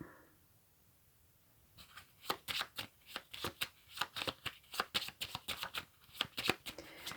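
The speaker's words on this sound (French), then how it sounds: "je sors la carte de la solitude" Tarot cards are drawn and handled from a deck, giving a quick, close series of papery flicks and slides after a short quiet start.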